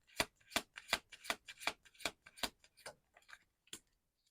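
Tarot cards being shuffled by hand, a quick series of crisp riffling flicks in an irregular rhythm that thins out toward the end, close and fairly quiet with no talking.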